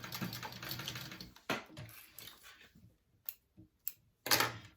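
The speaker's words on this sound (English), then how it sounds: "You sew that on at a 1/2 inch seam allowance onto your zipper." A sewing machine stitches a pocket onto a zipper for a tote bag, giving rapid close-up mechanical clatter that stops and starts, followed by a few short isolated bursts.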